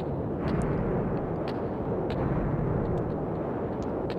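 Terrorist bombing at a concert in Persona 2: Innocent Sin, rendered as a continuous loud rumbling roar of explosion and fire that holds steady throughout, with faint crackles on top and no speech.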